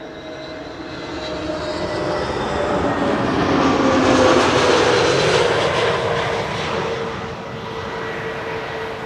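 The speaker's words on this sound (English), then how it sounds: "Right now there's an A320neo from EasyJet arriving behind me, arriving from Olbia" An EasyJet Airbus A320neo jet arriving to land at Amsterdam Schiphol, its engine roar building steadily to a loud peak overhead and then easing off as a broad, sustained rumble.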